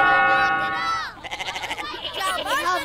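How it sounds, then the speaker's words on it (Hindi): Goats kept for Bakra Eid bleat loudly while fighting each other, with nasal, quavering cries that follow one another over about three seconds, the middle cry shaking in a rapid pulse. "ये देखो बकरों की लड़ाई हो रही है"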